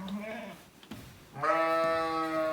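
A lamb on a farm gives one clear, drawn-out bleat close to the microphone, after a short quieter stretch with faint farm sounds.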